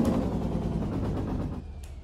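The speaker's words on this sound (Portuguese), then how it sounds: "E o freio motor, será que estrala?" Engine brake on an International Workstar truck in Euro Truck Simulator 2 crackles in a dense, rapid run of pops, loud and close, before cutting off abruptly near the end.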